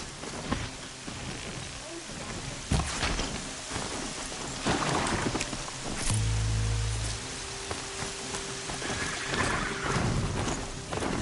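Steady rain pours in a Horizon Zero Dawn game world, a dense broadband hiss that runs throughout with scattered drop impacts and a brief low rumble midway, mixed with other game sounds.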